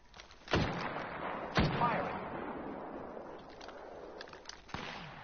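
Heavy gunfire booms in a PS4 video game, a few loud separate blasts with rumbling echoes over constant battle noise.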